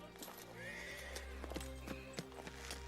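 A horse whinnies and its hooves clip-clop in a medieval king's camp, the neigh rising clearly over several sharp hoof strikes, with faint voices in the background.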